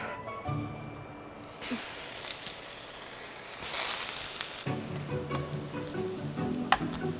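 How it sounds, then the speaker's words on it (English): Pineapple sizzles steadily on a hot grill, a constant crackling hiss that rises and falls slightly, with a few light clicks and clatters of cooking tools nearby. "I'm gonna grill my pineapple"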